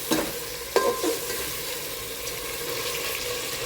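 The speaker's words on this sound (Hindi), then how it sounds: "बोटियों को भी हम भूनेंगे थोड़ी देर इन सब चीज़ों के साथ ऑयल में" Mutton pieces browning in oil with ginger and garlic, a steady moderate sizzle with a couple of sharp spoon knocks against the pot near the start.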